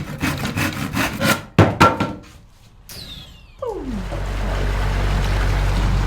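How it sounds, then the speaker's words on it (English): A handsaw cutting through a wooden batten during a narrowboat floor conversion, several quick rasping strokes followed by a thunk, then a low rumbling hum takes over. "Now, I was cutting some batten, wasn't I?"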